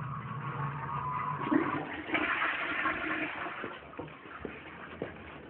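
A button-operated cabinet for salo in a Lviv art museum-restaurant gives a toilet-style flush: a continuous rushing, gurgling surge of water with no talk over it.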